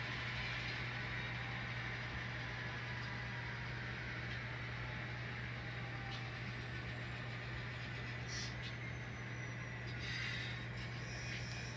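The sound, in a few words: N scale model train running on layout track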